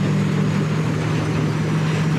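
A loud, steady heavy combine harvester engine drone with a low throbbing hum, running continuously and close by with no pauses.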